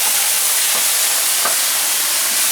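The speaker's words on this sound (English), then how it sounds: "Look at the sound of sizzling" A steady, loud sizzling hiss runs throughout as yogurt fries in a hot pan, with no talking.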